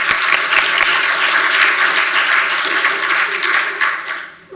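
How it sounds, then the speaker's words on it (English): Audience applause in a meeting room, a full and fairly loud patter of many hands clapping that continues steadily, then thins and fades near the end. "I think Ed deserves a round of applause."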